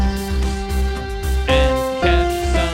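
The Pokemon Go theme played along with a backing track: a steady melody over a full, continuous accompaniment with regular rhythmic accents, loud and close, with no talk.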